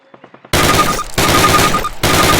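Rapid automatic weapon fire from the Call of Duty video game, a loud continuous rattling burst broken by two brief pauses, preceded by a few soft clicks.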